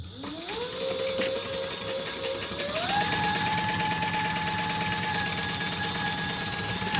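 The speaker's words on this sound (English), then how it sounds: "we're going to sew across the tops" A sewing machine stitches steadily across the tops of a sewn piece, its motor whirring up to speed and then holding a loud, even mechanical hum, alone without voices.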